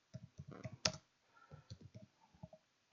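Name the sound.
typing on a computer keyboard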